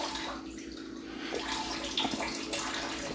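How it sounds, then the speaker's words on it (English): Water poured into a pan of chocolate cherry sauce being made for thumbprint cookies, a steady close trickle that starts soft and grows fuller over a few seconds against faint kitchen background noise. "And then 2 tablespoons of water."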